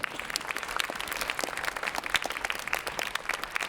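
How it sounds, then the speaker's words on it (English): A modest crowd claps for percussionist Landon Peckham after a percussion ensemble performance, scattered distinct hand claps heard at a fair distance and fairly quiet. "Give him a round of applause."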